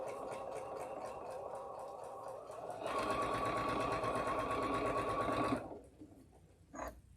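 A sewing machine stitches quilt block seams in Moda fabric, running in a steady close whir that grows louder and denser partway through, then stops abruptly, leaving near silence and a brief soft clunk.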